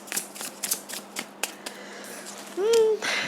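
Tarot cards are shuffled by hand to draw one card, making a quick run of soft flicking slaps up close. A brief voice is heard at the end.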